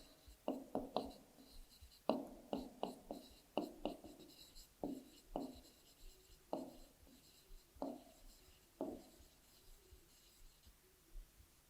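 Chalk or marker taps and scratches on a board during a maths class, a series of short strokes in irregular bursts, quiet and close, with soft background murmur.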